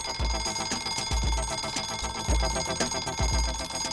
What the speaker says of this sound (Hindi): ज्ञान बाद में, पहले अलार्म बंद कर दे।